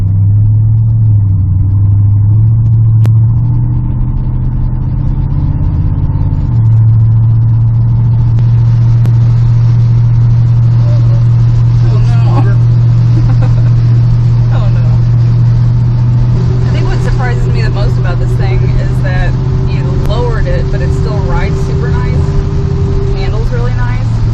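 A 6.0 LS-swapped 1986 Chevy C10 pickup runs with a steady, loud low engine rumble that rises and falls as it revs and spins on slick ground, with voices talking over it throughout.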